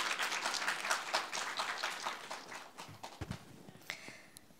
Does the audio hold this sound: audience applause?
yes